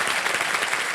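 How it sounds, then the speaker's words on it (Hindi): A dense, steady wash of applause from a television quiz show studio audience fills the space, loud and continuous without a break. "एक बार फिर जोरदार तालियां बज जाएंगी।"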